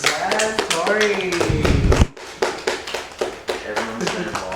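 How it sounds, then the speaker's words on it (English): A round of applause for a crew member, with dense clapping and tapping that fills the space, a short drop in the middle, and people talking over it. "we need a round of applause for Tori"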